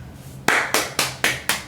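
Five sharp hand claps in a steady, evenly spaced rhythm, close and loud, following a short quiet lead-in.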